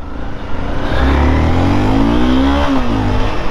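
Honda CBR 250 motorcycle engine revved hard, a loud, close, sustained roar that climbs in pitch and holds with a whistling edge before easing slightly, heard alone without talk.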